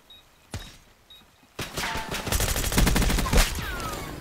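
Assault rifle fire in Black Ops 6: two faint isolated shots, then a loud sustained burst of rapid automatic gunfire lasting about two seconds, close and dense.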